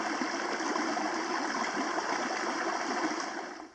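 An autumn brook in Fundy National Park flows with reduced volume, giving a steady, broad rushing and gurgling wash that holds constant and then fades at the end.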